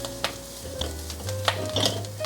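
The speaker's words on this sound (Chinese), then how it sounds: "现在把红萝卜放进来，快速翻炒，让红萝卜吸收到油。" Carrots stir-fried with mushrooms in oil, a few quick scraping strokes of a spatula over a soft, steady sizzle, close and moderately loud, with no talking.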